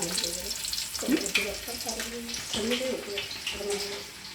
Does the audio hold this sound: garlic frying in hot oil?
yes